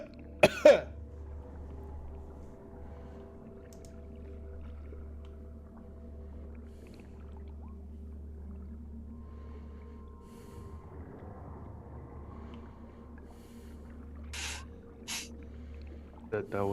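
Someone coughs on a dock by the wreckage at Blackwater, with one sharp cough near the start and a couple more brief coughs near the end, set against a low, quiet rumble.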